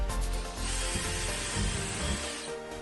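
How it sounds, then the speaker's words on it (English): Steady whine of a power drill with a 1/4-inch bit drilling holes through a pontoon boat seat, continuous and close, with slight rhythmic dips in pitch as it bites. "we're going to go ahead and run our 2 holes through the 1/4-inch drill bit"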